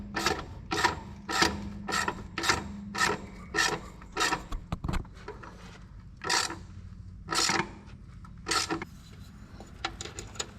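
On a stump grinder, a ratchet-style tool tightens the bar with about a dozen close, rasping strokes in an uneven rhythm, separated by brief pauses over a low background hum.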